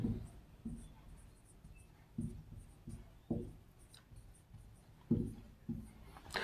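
Chalk or marker writing on a board during a class 11 maths lesson: distinct scratchy strokes in short bursts, about eight or nine irregular taps and scrapes, fairly quiet with a hushed room behind.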